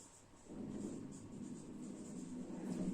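Pen scratching on paper as closing stock is written by hand in a balance sheet, a faint, soft, continuous rustle at close range.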